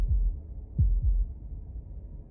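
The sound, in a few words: heartbeat sound effect in the video game Slay the Princess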